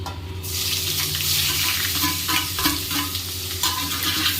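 Spices sauté in hot oil for a country chicken soup, a loud close sizzle that swells after a brief quiet start, with spatula scrapes stirring through it and no voices.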